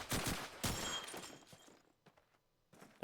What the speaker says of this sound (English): after that barrage of bullets